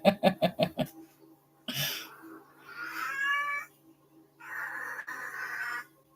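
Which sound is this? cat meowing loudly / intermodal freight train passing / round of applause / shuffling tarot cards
cat meowing loudly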